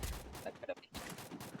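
Rapid gunfire bursts from a mobile shooter video game, sharp repeated shots over continuous game noise, with players talking over the action.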